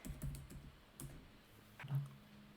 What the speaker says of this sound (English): if we open a new tab and we type HTML docs